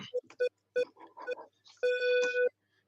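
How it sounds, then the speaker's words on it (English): A random phone scrambler effect on a morning radio trivia show: a rapid run of short, separate electronic beeps and tones, then a longer sustained, shifting ringing tone, close and crisp. "roll it, Lubie, the random phone scrambler"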